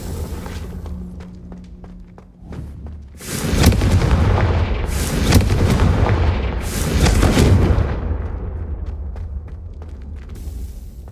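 Confringo fire spell in Hogwarts Legacy, a magical fiery blast erupting loud and close as a series of booming explosions with rumbling debris, building over several seconds after a quieter lead-in.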